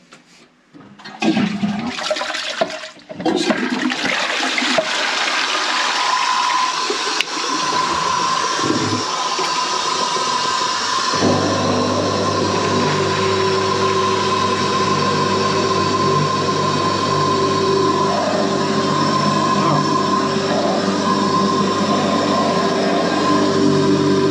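A newly fitted Saniflo macerator toilet flushing, starting with a rush of water, then settling into a loud, continuous motor hum and pumping whir that runs on without pause, close up and alone.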